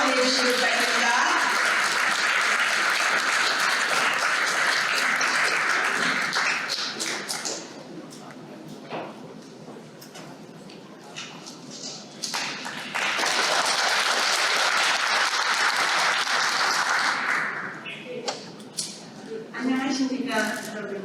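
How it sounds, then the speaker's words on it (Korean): Audience applause welcoming the president and board chair at a Seattle Korean community year-end Arirang Night event, loud bursts of clapping alternating with quieter stretches, with an announcer speaking between them. "please give a big round of applause and welcome President Susan Lee and Board Chair Hong Yoo"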